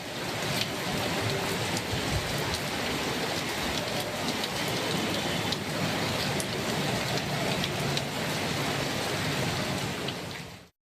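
Heavy northeast monsoon rain pours down in Tamil Nadu around Chennai, a loud dense roar of drops on surfaces that stays constant and close, with no talking.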